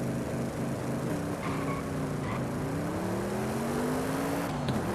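A stock sleeper car in Forza Horizon 5 drives with its engine humming and a turbo-muffled exhaust, rising steadily in pitch as it accelerates, up close and continuous.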